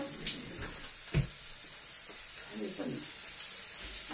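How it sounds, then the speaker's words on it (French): Rabbit pieces brown in a hot dish for rabbit in mustard sauce, a steady low sizzle and crackle of frying with a couple of soft knocks from a utensil, close and quiet throughout. "Au lieu de faire dorer à l'avance le lapin, moi je le fais en même temps dans le plat."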